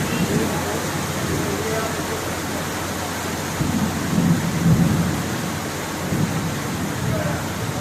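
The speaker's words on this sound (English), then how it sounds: "This is a very, very heavy rain, and lightning hit on each side of the ship," Heavy rain pouring steadily aboard a ship near Fort Sumter, with rumbling thunder swelling midway through the dense, continuous downpour.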